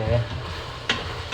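Onions frying with garlic, cumin and Italian seasoning, a soft steady sizzle with a stir or scrape briefly rising near the end.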